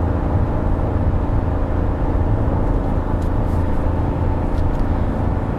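A 2022 Jeep Grand Wagoneer's turbocharged engine holds high revs after downshifting uphill while towing, heard from inside the cabin as a loud, steady drone with road rumble and no clear change throughout.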